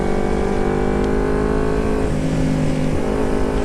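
A carbureted Kawasaki Ninja 250 motorcycle fitted with a Termignoni exhaust revs up close, its steady droning engine note rising and then dipping slightly, loud and continuous with no talking.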